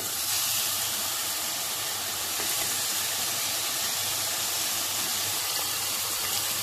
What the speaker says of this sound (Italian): lascio soffriggere ed ora andiamo a mettere i 4 scampi che abbiamo lasciato interi